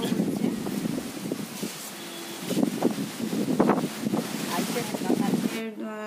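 Gusty wind blows hard under a darkening, cloudy sky just before a storm, a steady roaring rush that buffets the microphone throughout with surging peaks.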